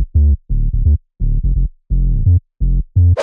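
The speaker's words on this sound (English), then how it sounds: "So we have to choose a nice sub bass." Synthesizer sub bass layer for a future house drop: deep, rounded low notes in short rhythmic pulses separated by silences, loud and clean, ending with a brief bright swell, no talking.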